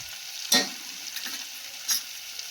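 Coriander-cumin powder frying in a pan for dal, a soft, even hiss of oil with two brief scraping stirs, close and quiet, no voices.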